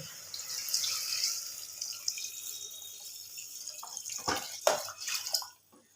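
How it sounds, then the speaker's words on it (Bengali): Water pours from a vessel into a pot of chicken stew, a continuous splashing stream that ends in a few heavier glugs and drips before stopping. "এটার মধ্যে জল দিয়ে দেব পরিমাণ মতো জল আমি দিয়ে দেব"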